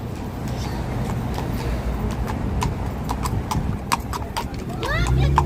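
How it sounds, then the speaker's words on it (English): Horse hooves clip-clop on a city street during a protest in Portland, Oregon, a series of crisp, irregular clops close by over a rumbling street background, with people talking. "Wow, horse."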